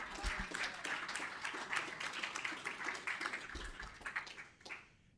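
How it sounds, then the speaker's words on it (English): Audience applause for event sponsors, broad steady clapping that holds for about four seconds and then thins out, with faint voices mixed in toward the end. "So please give a huge round of applause to all of our current sponsors."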